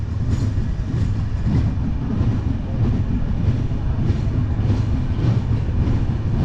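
Radhikapur Express pulling out of Ambika Kalna station on a quiet winter night, a steady loud rumble of rolling carriages with faint rhythmic wheel clatter throughout, no voices.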